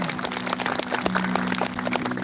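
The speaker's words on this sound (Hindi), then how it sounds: "ताली बजाएं मेरे यीशु के लिए" A congregation at a Christian prayer festival applauds for Jesus, dense rapid clapping from many hands filling the space for a couple of seconds over a low sustained hum, loud and close with no words spoken.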